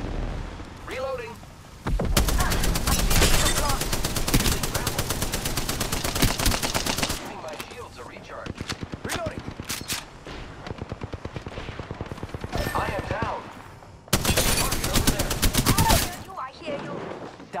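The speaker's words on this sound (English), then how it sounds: "The enemies are shooting at me!" Video game gunfire from enemies, bursts of rapid shots coming in loud dense volleys with short pauses between, mixed with game effects, and a voice talking over parts of it.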